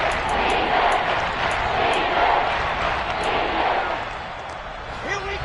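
A football stadium crowd roars in a broad, steady swell ahead of a big third down, loud and sustained before easing slightly near the end.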